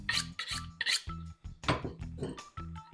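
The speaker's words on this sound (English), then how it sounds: "Knife's ready, but you start the membrane with your fingers. It's a lot easier. Peels off pretty easy." Fingers peel the thin membrane off a raw skirt steak, making repeated wet rasping and rubbing tears in short bursts, close and fairly loud, with no talking.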